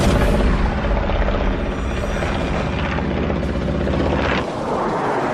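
A German jet fighter roars through aerial combat in a war film scene, a loud continuous engine roar that dips briefly near the end.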